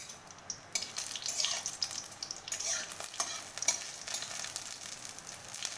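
Bay leaf and asafoetida frying in oil in a pan while a utensil stirs them, a close, crackling sizzle with irregular scraping strokes and brief clinks, no talking.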